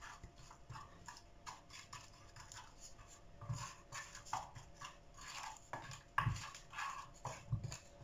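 Fish marinade with lemon juice being stirred in a dish for a fish tagine, soft scraping and light clinking of a utensil against the bowl in an irregular rhythm, close and quiet with no talking.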